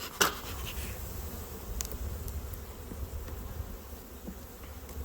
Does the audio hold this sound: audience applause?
no